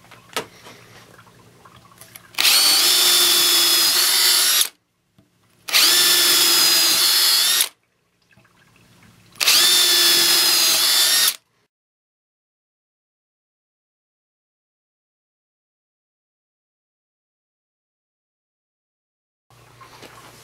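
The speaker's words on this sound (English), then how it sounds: "Both drills still seem to be going very strong." A Bosch cordless drill boring holes in wood whines loudly in three separate bursts of about two seconds each with short gaps, followed by a long stretch of silence.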